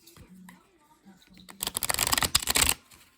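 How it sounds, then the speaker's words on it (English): Tarot cards from a Gustave Doré deck being riffle shuffled, a loud dense flurry of flicking card edges after some quieter handling and soft speech near the start. "I didn't ask if I was allowed to riffle shuffle."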